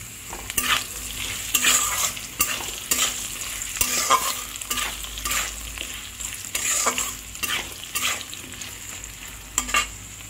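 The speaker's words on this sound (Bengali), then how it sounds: "আর একটু ভাজা হলে আমি তুলে নেব" Potato pieces frying in a pan for a jhinge aloo posto dish give a steady broadband sizzle, with periodic scraping strokes as they are stirred; close and continuous, no talking.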